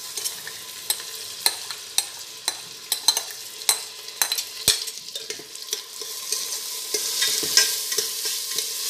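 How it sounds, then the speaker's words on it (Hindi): Rice sizzling as it roasts in ghee for sweet coconut rice, with regular spatula scrapes and taps against the pan over a constant close frying hiss. "एक 2 मिनट के लिए ये चावल घी में थोड़ा भून कर ले लीजिए।"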